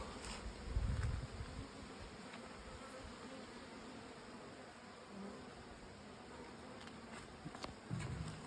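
Honey bees at a beehive in an apiary give a faint, steady buzzing hum throughout, with a few louder thumps and rustles close by and no talk.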